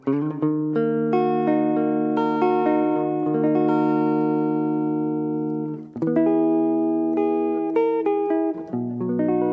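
Yamaha Revstar Standard electric guitar with the tone pull on, playing sustained, ringing chords and melodic notes, full and clean, with a brief pause before the playing continues.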